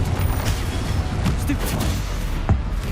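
Confringo fire spell exploding in the video game Hogwarts Legacy, a dense rumbling blast with thuds and crackle over continuous game noise, with voices over it.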